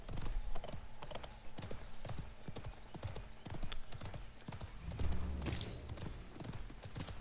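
A horse gallops in a video game, its rapid clip-clop hoofbeats pounding steadily and fairly close with a brief whinny-like burst, over a light background bed and faint voices.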